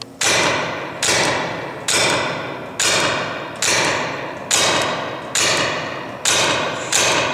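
Paintball marker fitted with a Rap4 TACAMO conversion kit fires about eight sharp, loud shots outdoors at a steady pace, each a crisp thump with a short fading tail and no talking.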